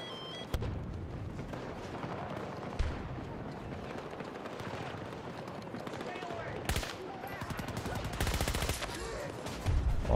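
AM40 rifle fire in Battlefield 2042, bursts of sharp shots that grow louder and denser near the end, mixed with distant battle noise and a voice talking quietly underneath.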